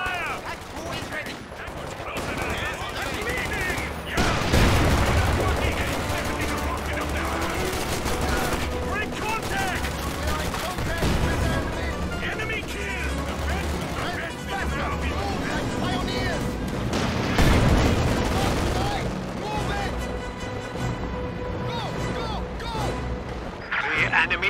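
Gunfire and explosions in the video game Company of Heroes 2, a dense battle of machine-gun rattle, rifle shots and booming blasts that runs on continuously under voices calling out.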